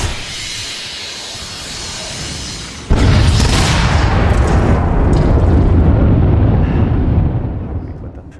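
Explosions and weapon fire from The Machines, an augmented-reality battle game, burst in suddenly partway through as a loud, sustained roaring blast with booming low rumble and hiss, trailing off at the end; no talking.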